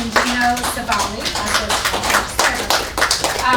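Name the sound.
audience applause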